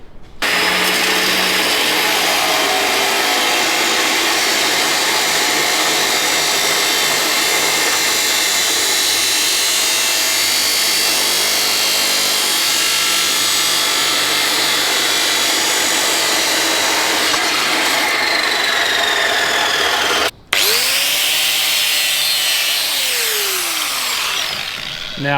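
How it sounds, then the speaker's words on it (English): An angle grinder works painted steel in a sustained, loud, harsh whine lasting nearly the whole stretch, briefly cutting out before spinning back up and winding down. "Now, I wouldn't actually normally grind off painted steel."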